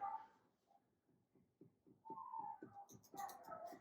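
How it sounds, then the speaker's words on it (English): A dog whines and yips in short high bursts, fairly close, growing busier and louder toward the end. "Dog's so loud up there."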